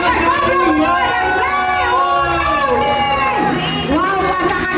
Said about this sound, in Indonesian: Ya, tepuk tangan yang meriah.